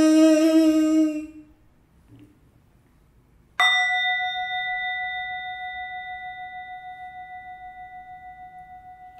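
A large temple bell is struck once and rings on with a long, slowly fading tone, preceded by a brief sustained sung note and a short quiet gap.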